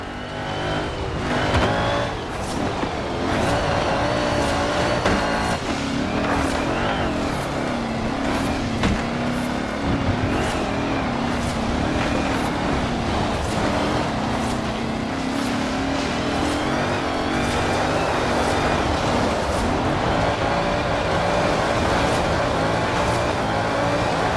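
An all-terrain supercar in Forza Horizon 4 drives with a continuous engine drone, rising and falling revs, and sharp, regular clicks of gear shifts or bumps along the way, loud and close with no talking.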